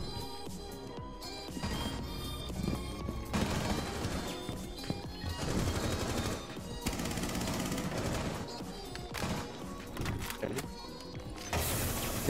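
Rapid gunfire and crashing impacts in a Rainbow Six Siege match, loud bursts and clatter running continuously throughout with no talk.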